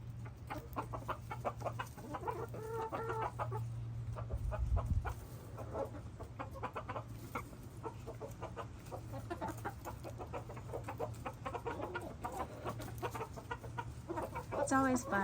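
Backyard chickens eating treats such as bell peppers and protein cluck and squabble, with frequent short, overlapping calls that are faint but steady beneath a low hum.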